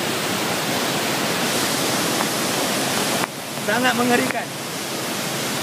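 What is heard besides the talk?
floodwater overflowing from a drain in Kajang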